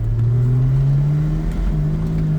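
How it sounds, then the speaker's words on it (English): A 1967 Plymouth Barracuda engine braking after being taken out of freewheel, a steady low engine drone holding one pitch that rises slightly, heard from inside the car with no talking. "I think I took us out of freewheel mode, so I might actually have engine braking"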